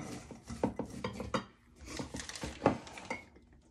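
Cinnamon spiced nuts are stirred in a bowl, giving irregular clinks and scrapes of a utensil against the dish, close and moderately loud, in two bursts separated by a brief pause.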